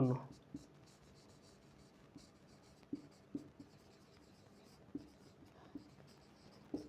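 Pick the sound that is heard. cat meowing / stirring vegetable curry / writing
writing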